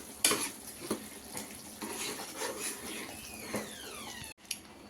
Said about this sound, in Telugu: ఇలా కందిపప్పు వేసేసుకొని అన్ని బాగా మిక్స్ చేసేసుకోవాలండి.